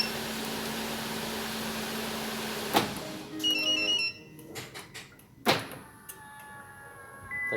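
Alarm system on a 2016–2021 Kia Sportage with start-stop unlocking the doors: two sharp mechanical lock clunks a few seconds apart, with short electronic chirps between them, close by and moderately loud, no talking.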